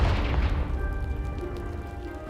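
A Confringo explosion spell blasts a pile of debris in Hogwarts Legacy, a single booming burst up front that decays into a lingering rumble with faint magical tones.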